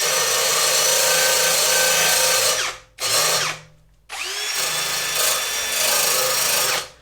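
A drill or disc grinder strips the metal of a Renault R5 Alpine Turbo down to bare steel. It runs as a loud, continuous abrasive whine, cuts out twice briefly, then resumes, with no voices.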